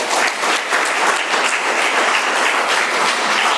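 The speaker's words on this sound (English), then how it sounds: "Let's give her one more round of applause." A roomful of people at an AA meeting claps steadily and loudly, a dense, sustained round of applause with no voices standing out.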